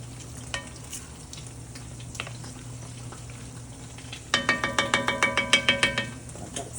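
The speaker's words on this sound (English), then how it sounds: "Stir that around." Pepper-seasoned food stirred in a pan over a steady low hum, with scattered scrapes, then a quick run of about ten evenly spaced, sharp spoon strikes against the pan near the end.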